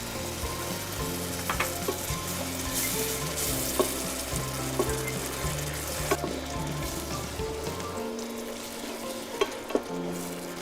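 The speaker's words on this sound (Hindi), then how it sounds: "बस जब तक ये हमारा मसाला पकता है तब तक थोड़ा सा करते हैं इंतज़ार" Masala with curd and cream sizzles and fries steadily in a pan while cooking for biryani, a continuous close crackle broken by a few light clinks and stirring scrapes, with no talk.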